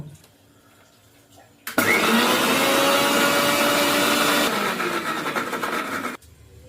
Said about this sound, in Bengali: এবার আমি পুরোটাকে বেটে নেব।